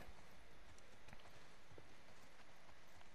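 Horse hooves clip-clop softly and steadily in The Last of Us Part II, a quiet, even run of hoofbeats with faint background ambience.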